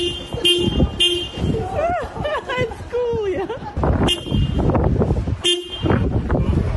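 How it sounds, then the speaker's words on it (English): A dog presses a car horn with its paws while waiting for its owner, giving several short toots in an irregular rhythm as people talk and react close by. "repeatedly and with great skill and cadence, honking the car horn with its paws, waiting for the owner to return"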